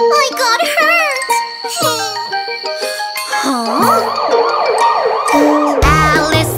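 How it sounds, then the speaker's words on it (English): A synthesized ambulance siren from a children's cartoon car song wails in repeated rising and falling sweeps over bright, tinkling music. It is loud and up front, with no talking. "Alice the ambulance is on the way, taking away patients, quick, quick, quick"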